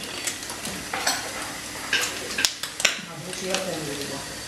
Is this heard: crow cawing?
no